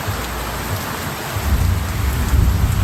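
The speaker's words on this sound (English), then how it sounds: "Thunder." Steady afternoon rain hisses close by in Cabo Rojo, Puerto Rico, while a low rumble of thunder builds and rolls in the background.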